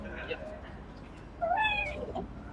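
A faint cat meows once amid background noise, a short rising and falling cry at a distance.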